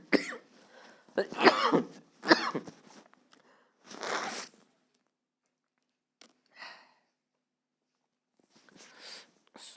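A man with a cold coughs repeatedly in harsh bursts, close to the mic, with throat clearing and sniffs between them and quiet gaps after.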